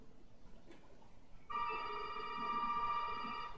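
A telephone rings in Resident Evil 7 (Madhouse), a sudden electronic ring that starts after a quiet moment and holds as a steady, clear tone.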